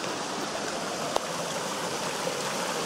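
Back-country creek water rushing steadily where two streams join, a continuous broadband wash with no pauses, close and fairly loud throughout, apart from one brief click.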